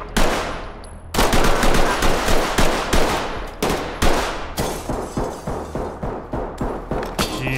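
Rapid gunfire in the tactical shooter game Ready or Not, loud, close bursts of shots with a few brief pauses, alone without talk.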